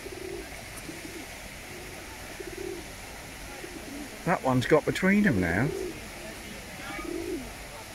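Pigeons coo while courting in Jephson Gardens, Royal Leamington Spa, with a soft low cooing run rising in the middle, close by over outdoor ambience, while a person talks briefly.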